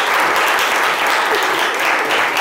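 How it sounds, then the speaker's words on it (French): A studio audience applauds a team and its captain with brisk, continuous clapping, loud and close, holding evenly throughout. "Les autres, on l'applaudit quand même."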